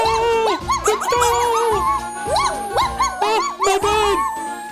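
A cartoon dog barks and whimpers in an animated story, under a busy, loud music score with voices and sound effects throughout.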